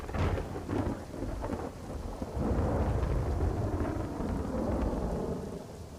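Heavy monsoon rain pours down over a flooded area along the Tapi river, a loud, continuous downpour with deep rumbling and no voices.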